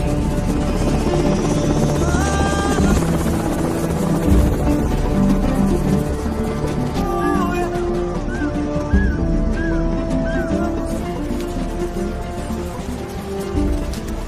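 A helicopter in a Somalia war setting drones loudly and steadily nearby, its rotor and engine roar filling the whole stretch without a break.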